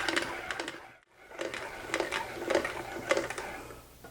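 A hand-cranked food mill strips chili skins with a soft, rhythmic whirring and scraping that repeats in quick cycles, fairly faint and close, with a brief pause partway through.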